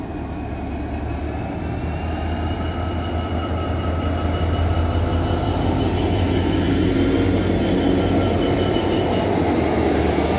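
A Class 66 diesel locomotive, 66 720, hauls Class 92 electric 92 014 past at Hamilton West with a steady loud rumble and rolling wheel clatter, faint squeals riding over the continuous drone.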